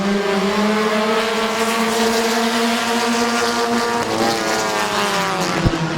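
Race cars thunder around the Midvale Speedway oval, a dense, steady engine drone with layered harmonics that holds loud throughout and shifts pitch slightly as cars jockey for position.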